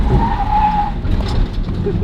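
Nissan 350Z on budget forged wheels taking a corner, tires squealing and skidding loudly over a rumbling engine, heard close from inside the car.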